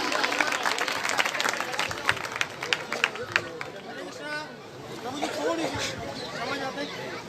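Applause from an audience at a stage play welcoming a performer, dense clapping with crowd chatter and voices mixed in, steady and fairly loud across the whole stretch.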